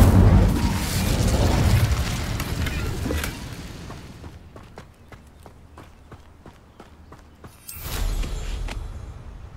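An Incendio fire spell in Hogwarts Legacy bursts with a loud roaring whoosh that fades into a run of light footsteps, then a second fiery blast flares up near the end.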